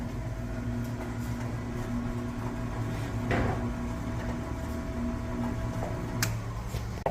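The column of a milling machine is lowered in a machine shop cutting valve seats, giving a steady mechanical hum and grinding drone with occasional clunks, close by and continuous.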